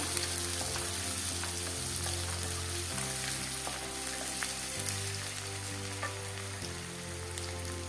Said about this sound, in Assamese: পিঁয়াজ অলপ সময় ভাজিবলৈ লাগিব।